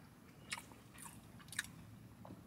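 A person eats pizza with garlic sauce, giving faint close-up bites and soft chewing with a few crisp crunchy clicks against quiet room tone.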